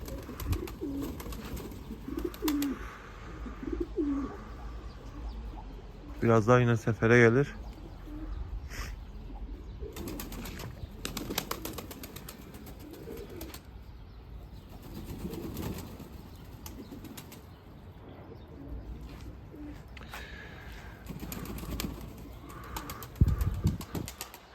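Rain-wet pigeons flap their wings in a brief loud burst amid steady outdoor noise, with soft cooing and someone speaking briefly.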